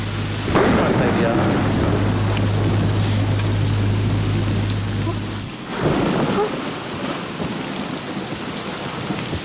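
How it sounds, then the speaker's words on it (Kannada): Heavy rain pours steadily as a dense wash of noise, and a low rumble of thunder rolls underneath. The rain surges again near the end, and no one speaks. "ಮಳೆ ಸುರಿತಾ ಇದೆ"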